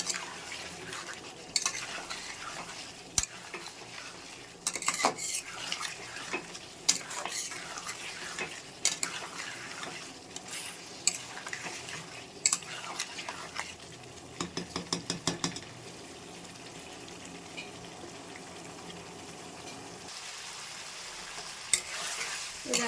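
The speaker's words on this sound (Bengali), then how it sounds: "মটনটা ভালো করে কষিয়ে কষিয়ে নিয়ে" Mutton being stirred and fried dry in a kadai for kosha. A soft continuous sizzle runs throughout, broken by irregular scrapes and clinks of a spoon against the pan, with a quick rapid burst of stirring midway.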